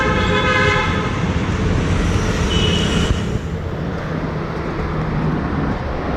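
A metro train at Little Mount metro station in Chennai, rumbling loudly nearby, with a sustained horn-like tone in the first seconds over continuous traffic and rail noise.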